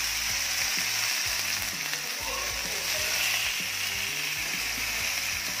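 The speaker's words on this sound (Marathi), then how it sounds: "तव्यावर अगदी म्हणजे मस्त बार्बिक्यू कसं करायचं हे मी तुम्हाला दाखवत आहे." Meat pieces frying barbecue-style on a hot tawa give a steady, close sizzle and crackle throughout, with no voices over it.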